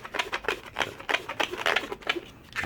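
Latex balloon twisted into a parrot shape, a close run of rapid squeaky rubbing and creaking pulses that carries on steadily, with no voices.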